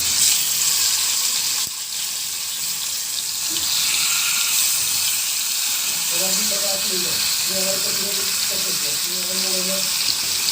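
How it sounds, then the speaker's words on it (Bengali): Spiced fish pieces frying in a pan make a loud, constant hiss and sizzle, with a voice speaking over it in the latter half. "এবার ভাজি করব। তো একটা একটা করে মাছ দিয়ে দিব।"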